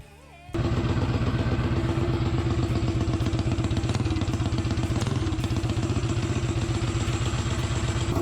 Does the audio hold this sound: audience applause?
no